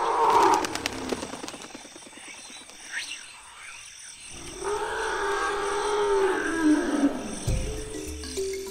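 A male forest elephant at Dzanga Bai gives a deep, rumbling, roaring call that swells and holds for several seconds, mixed with frog croaks and other calls from the forest clearing.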